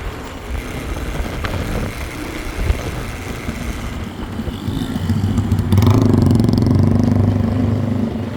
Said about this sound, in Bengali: ছোট ভাই বাইক চালানোর জন্য রেডি